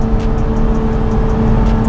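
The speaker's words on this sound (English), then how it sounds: "Exhaust note is kind of muted, but the engine feels like it sings a little bit." A Lotus Emira sports car accelerates in second gear, its engine giving a steady, fairly loud hum with a muted exhaust note, heard over a brief stretch without speech.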